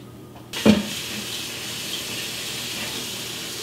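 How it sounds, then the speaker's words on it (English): A kitchen tap suddenly turns on, splashing into a new cast iron braiser being washed, then settles into a steady close rush of running water. "I always like to wash my cookware before I use it for the first time."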